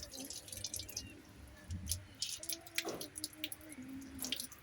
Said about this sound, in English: So now I'm just going to flip it upside down and run the water straight through that opening.